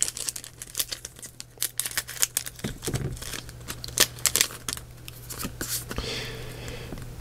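A Pokémon Forbidden Light booster pack is torn open at close range, giving crisp crinkling and ripping foil sounds in quick irregular bursts with brief pauses, no talking.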